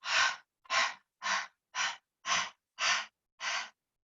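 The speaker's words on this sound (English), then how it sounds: "Exhale out for 7. Inhale in. Exhale out for 7." Slow, deep breathing exercise: seven long, even breaths in a steady rhythm, each a soft airy rush separated by short silences, close to the microphone and without talk.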